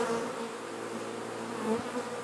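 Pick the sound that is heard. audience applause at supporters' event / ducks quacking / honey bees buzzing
honey bees buzzing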